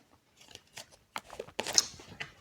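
Tarot cards are drawn and handled up close, with short papery snaps, slides and rustles in irregular bursts, quiet at first and then busier.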